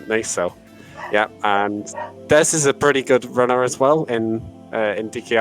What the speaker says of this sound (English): I know you can hear my dogs right now.